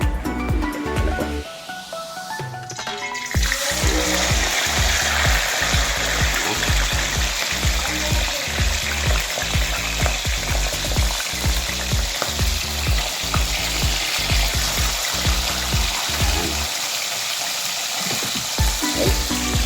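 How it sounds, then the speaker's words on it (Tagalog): Fish sliding into hot oil and frying loudly, a dense continuous sizzle that swells after a quieter start and stays strong, with rhythmic crackling pops throughout; no one speaks. "Mainit ang mantika. Bago nilagay ang isda."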